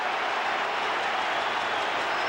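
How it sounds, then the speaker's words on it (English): A roaring crowd at an Australian football match between Richmond and Fremantle at Colonial Stadium, a steady dense wall of cheering and noise with no individual voices standing out. "the crowd going mad here at Colonial"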